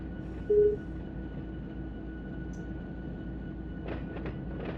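Simulated freight train rolling slowly at yard speed in the Run 8 train game, a steady low engine and wheel rumble with a constant tone, a brief louder pulse early on and faint clicks toward the end.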